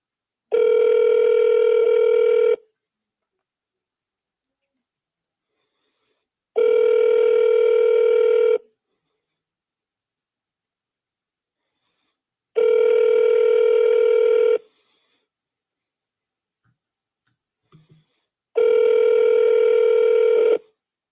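Loud, steady tones from an automated phone dialer placing calls, four identical bursts of about two seconds each, separated by roughly four-second gaps of silence, with no voices.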